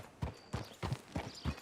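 Horse hooves clip-clop in Red Dead Redemption 2 as a rider brings a horse to a hitching post, six even, close thuds at a slow walking pace with no other sound.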